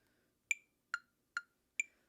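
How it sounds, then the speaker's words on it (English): A metronome set to 140 beats per minute, four crisp evenly spaced clicks alone in silence, close and clean. "So to practice to a metronome, the magic number is 140 beats per minute"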